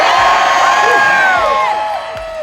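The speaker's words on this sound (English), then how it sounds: "I think this is the biggest crowd we've ever had here." A large crowd cheers and whoops on race day at the 2019 British Grand Prix, loud and close, with shrill rising shouts and whistles stacked over a dense roar.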